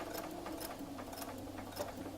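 A domestic sewing machine running a few backward stitches while binding a quilt, giving a steady, close mechanical whir with light rhythmic ticking throughout.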